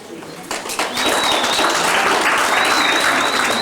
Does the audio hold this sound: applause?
yes